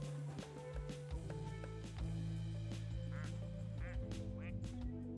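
Plastic ducks in Placid Plastic Duck Simulator let out several short, soft quacks over a gentle, steady bed of game music.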